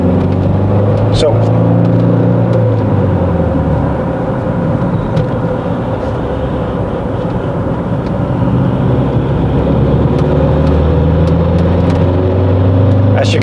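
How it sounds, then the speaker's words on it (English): A Saab 9000 2.3 Aero accelerates hard on the road, its engine drone rising in pitch and then dropping at a shift before climbing again, loud and steady from inside the car, with a person talking over it. "It's just really pulling away."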